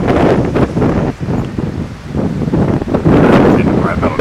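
Wind of about 12 mph buffets the microphone outdoors on a windy day near home wind turbines, a loud, continuous rumbling rush that swells and eases in gusts.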